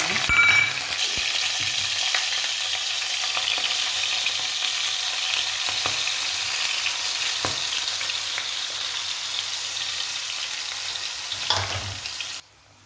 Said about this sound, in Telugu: మసాలాని ఇప్పుడు డీప్ ఆయిల్లో ఫ్రై చేసుకోవాలి